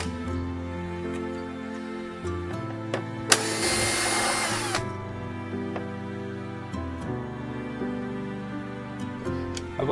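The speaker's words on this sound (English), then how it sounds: "It just gets boring watching taking screws out." A power drill backs screws out of epoxy work on the transom of a trimaran, a single loud whirring burst of about a second and a half, close, over a steady low hum and scattered clicks.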